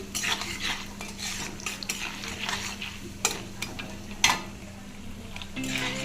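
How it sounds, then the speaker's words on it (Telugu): Onions and chana dal frying in a pan for samiya upma, a steady sizzle broken by repeated scrapes and clinks of a metal spoon against the pan, close and moderately loud, with no one talking. "ఉల్లిపాయలు వేసుకోండి. ఇవన్నీ బాగా ఫ్రై చేసుకుని"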